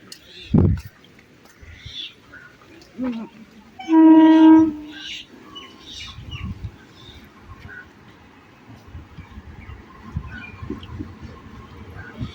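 A train horn sounds briefly amid station bustle as an ICF local train pulls in on the Barasat–Hasnabad line in India, with a sharp knock early on and people talking nearby throughout.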